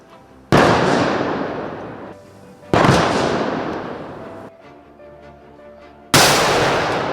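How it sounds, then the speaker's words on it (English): Booming ceremonial gun salute fired at State House, Kenya, for a visiting president: three loud, close blasts, each with a long rolling echo that fades before the next, with no talk. "Upon arrival, the president proceeded to State House, where he received a 21-gun salute."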